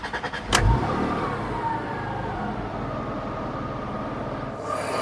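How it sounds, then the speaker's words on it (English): MG ZT-T V6 engine runs smoothly at a steady idle after a few knocks and a sharp thump at the start, with an even, low hum that continues without rattle. "very smooth V6 engine. No inlet manifold rattle here."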